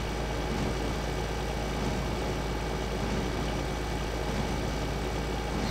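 Tractor engine in Farming Simulator 2013 drones steadily at a constant pitch, a continuous low hum with no talk over it.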